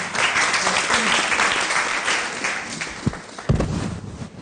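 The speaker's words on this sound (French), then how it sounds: "On applaudit très fort pour Papa Alaguet, s'il vous plaît." A TV show studio audience applauds loudly and steadily, dense clapping filling the room, with a couple of sharper thumps near the end as it begins to fade.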